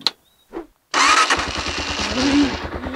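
A motorcycle engine catches after a couple of brief starter attempts, then settles into a loud, close, rapid idle that runs steadily to the end.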